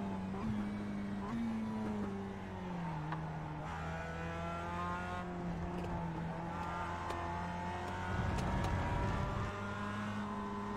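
Race cars in the iRacing simulator with steady engine drone and shifting pitch as cars close in and pass, continuous and moderately loud, with no talking.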